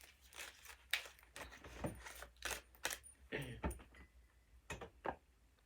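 Oracle cards from a Lover's Oracle deck shuffled by hand, a close series of crisp riffling and flicking bursts in an irregular rhythm, with no talk.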